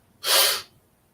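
A person imitates a short, sharp intake of breath, one quick, forceful gasping blast that is close, lasts about half a second and is heard alone.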